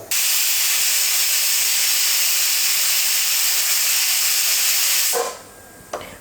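A pressure cooker vents steam while white kurma cooks, giving a loud, steady, close hiss for about five seconds before it cuts off abruptly, followed by a couple of faint clicks.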